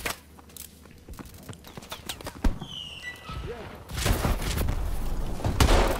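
Horse hooves clip-clop in Call of Duty: Advanced Warfare multiplayer, a loose rhythmic patter mixed with gunfire bursts and game noise, growing denser and louder in the final seconds.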